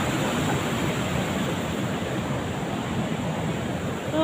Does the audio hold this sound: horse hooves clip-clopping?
no